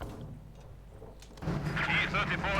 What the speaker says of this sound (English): Looks like there's a bit of a duel there going on between the two mortars